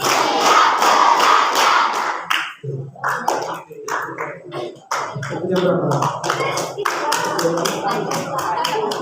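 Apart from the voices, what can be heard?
students clapping in rhythmic clap patterns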